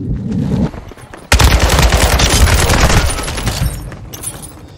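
Gunfire in the Call of Duty Modern Warfare 2 multiplayer game: a short burst, a pause, then loud sustained automatic bursts that rattle on close and heavy before easing off slightly at the end.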